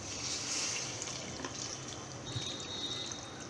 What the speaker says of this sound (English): And now again you add some water.